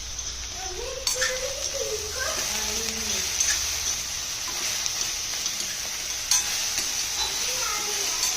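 Okra tossed with salt and turmeric in a pan, a soft scraping stir over a steady sizzle, with a voice talking through part of it.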